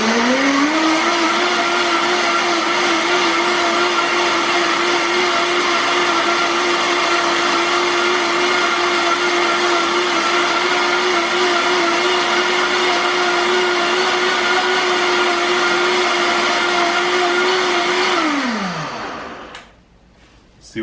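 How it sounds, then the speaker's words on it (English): A Vitamix blender runs at full speed puréeing fermented ghost peppers for hot sauce, a loud, steady motor whine that holds level for about eighteen seconds, then winds down and stops abruptly. "Pull out the Vitamix, and we got that."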